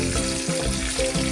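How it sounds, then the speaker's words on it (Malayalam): Chicken pieces for Chicken 65 shallow-frying in hot oil, a dense, steady sizzle and crackle close by with a few brief stirring scrapes, no talking. "ഇനി അടുത്തത് നമുക്ക് ഈ ചിക്കൻ ഫ്രൈ ചെയ്യാൻ വേണ്ടിയിട്ട് തുടങ്ങാം."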